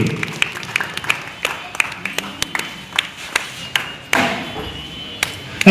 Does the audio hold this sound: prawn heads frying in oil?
no